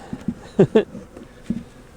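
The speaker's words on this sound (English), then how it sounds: "These bees flying around here are coming back to where their hive is, and it's gone" Honey bees circle the empty spot where their hive has been removed, with several close buzzing passes flaring and fading over a low outdoor background.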